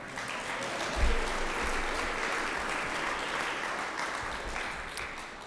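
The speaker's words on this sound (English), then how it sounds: "give yourselves a round of applause for being here at 8 o'clock" An audience at a keynote address claps in sustained applause that swells after a second and holds steady for several seconds, with no voices over it.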